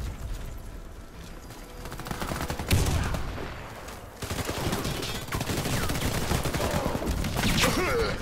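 Gunfire rattles in the shooter Warface, with bursts of automatic fire and scattered shots from several directions, some close and loud, continuing throughout with a brief lull midway.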